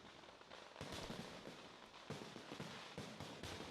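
Firecrackers burst in rapid, irregular crackling volleys during a temple festival puja celebration, a dense run of sharp pops without any talking, heard at a moderate distance.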